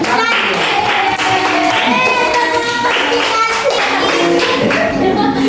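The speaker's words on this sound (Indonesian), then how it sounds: "Oke, kasih tepuk tangan untuk kelompok." A classroom of students applauds a group, with loud, continuous clapping and lively children's voices mixed in throughout.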